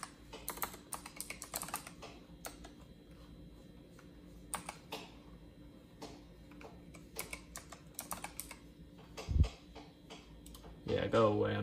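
Keys clatter in quick bursts as a username and password are typed on a computer keyboard during setup of a Synology DS120j NAS, close and crisp with short pauses, and a voice briefly speaks near the end.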